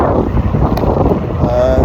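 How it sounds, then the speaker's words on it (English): Steady low rumbling wind buffeting the microphone, dense and continuous throughout with no clear pauses. "It's a bit windy along here at the moment."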